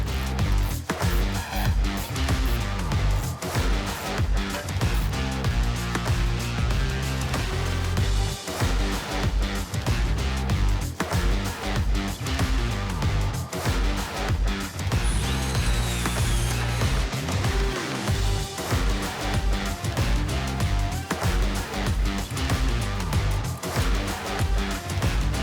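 A power drill runs under a trailer, driving bolts to mount an E-Track cargo tie-down system. The whirring comes in steady, rhythmic bursts that fill the whole stretch, with no talking.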